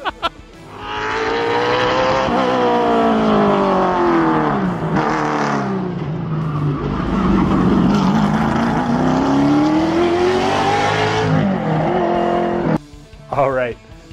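A Pikes Peak race car engine roars loudly and continuously, its pitch sweeping up and down as it revs and accelerates, with tire squeal mixed in, before cutting off abruptly near the end.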